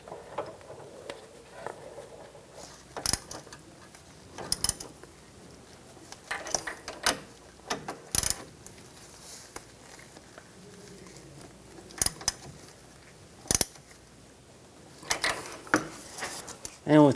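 Tie rod tool being positioned and tightened on the inner tie rod of a 2015-2020 Cadillac Escalade: scattered sharp metallic clicks, taps and ratchet-like ticks in uneven bursts at close range, with a quiet background between them.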